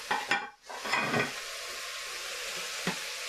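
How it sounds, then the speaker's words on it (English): Celery and cauliflower sauteing in a pot for keto clam chowder, giving a close, steady sizzle with stirring scrapes at the start and a soft clink near the end, with no talking. "And I'll saute that for about a minute."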